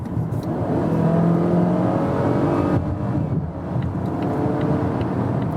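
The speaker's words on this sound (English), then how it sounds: "So you see this 4-cylinder engine, of course, you hear how it's working" A Volvo XC40 SUV's four-cylinder engine droning and pulling steadily while accelerating from 60 to 100 km/h, a continuous loud hum with road and wind noise, no voices.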